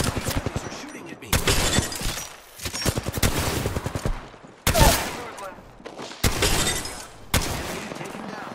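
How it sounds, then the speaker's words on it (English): Apex Legends gunfire comes in loud, close bursts of rapid shots, separated by brief pauses, with heavy blasts and shattering impacts. "Enemies are shooting at me."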